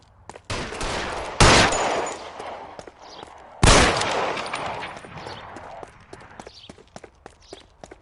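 Gunfire in the video game L.A. Noire, two loud, sharp shots a couple of seconds apart, each with a reverberant tail, followed by a run of quick clattering footsteps.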